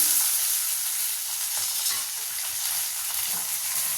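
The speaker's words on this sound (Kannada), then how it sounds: "ಹಸಿಮೆಣಸಿಕಾಯಿ ಮತ್ತು ಈರುಳ್ಳಿ ಹಾಗೆ ಟೊಮೊಟೊನ ಸಹ ಮಿಕ್ಸ್ ಮಾಡ್ತೀನಿ" Green chillies, onion, tomato and curry leaves are stirred in a hot pan for moong dal khichdi, with an even, continuous frying hiss and soft stirring underneath, close by and with no voices.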